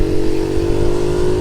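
A Honda Monkey Z50 J1 motorcycle revs hard during a wheelie on a road in Appledore, North Devon, a loud, close, continuous buzzing engine note with no talking.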